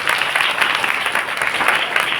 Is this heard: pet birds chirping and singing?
no